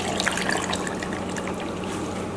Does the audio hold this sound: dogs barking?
no